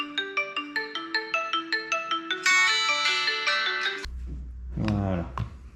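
A phone plays a bright, melodic ringtone in a repeating pattern, set off by a Redmi Watch 2 Lite find-phone feature, then someone speaks over it as the tune continues.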